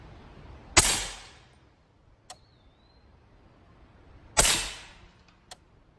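Two loud rifle shots from a .30 caliber rifle loaded with swaged copper bullets crack out several seconds apart outdoors near woods, each trailing a rolling echo, with faint distant pops after each.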